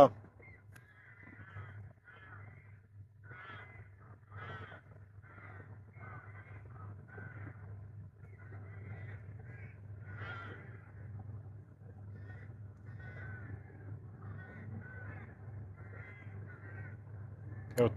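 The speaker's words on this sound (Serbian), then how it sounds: "A ovo i gavranje su dosadni" Along the Sava river, crows keep cawing in uneven clusters of harsh calls throughout, set against a faint low rumble in the background.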